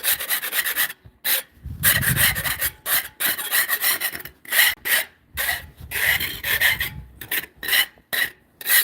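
Rotted roof material being scraped up, with repeated rough rasping strokes in an uneven rhythm, loud and close, separated by brief pauses.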